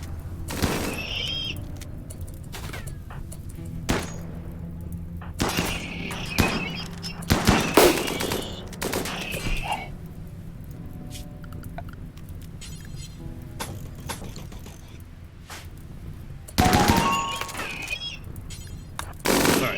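Gunfire in the colony-sim video game RimWorld: scattered sharp cracking shots and short rattling bursts spread irregularly over about twenty seconds, fairly loud, with brief quiet gaps in between.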